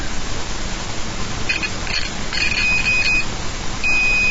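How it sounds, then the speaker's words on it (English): A few short, thin electronic beeps from a multimeter's continuity tester, steady and high-pitched, sounding intermittently over a hissy, noisy background. "Turn the meter on, otherwise it won't beep."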